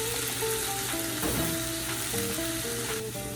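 Shrimp sizzle steadily in a hot pan for tacos, a dense, continuous frying hiss at close range with faint stirring scrapes and no voices.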